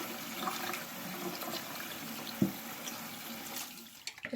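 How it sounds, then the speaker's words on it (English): Tap water runs steadily over soft homemade butter being rinsed of buttermilk in a sink, a continuous close splashing stream with a brief louder gush midway and small knocks near the end. "the water's running over it"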